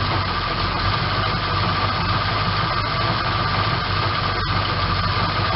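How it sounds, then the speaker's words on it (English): A 1976 Ford Ranchero engine idles, a steady low rumble with constant vibration, close and loud, alone with no talk. "I finally got it to where it wants to idle"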